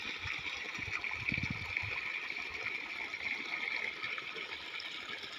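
A motor pumps water into a pit dug in a nearly dry riverbed, giving a steady, faint hiss and trickle of flowing water with no talk over it.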